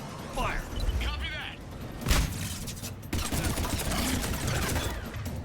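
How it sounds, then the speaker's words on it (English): Grenade blasts and gunfire in the sci-fi shooter Mass Effect 3, with dense layered bursts, a heavy boom near two seconds and another near three, over a constant battle din while people talk. "Those grenades work."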